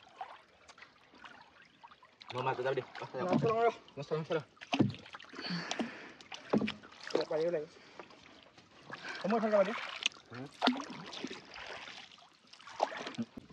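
Oars splash and dip into water at irregular intervals while several people talk and call out nearby.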